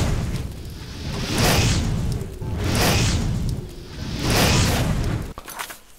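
A fire spell is cast repeatedly in Oblivion, each one a rushing, swelling whoosh that blooms into a muffled boom, three fairly loud surges in a slow, even rhythm before a short crackle.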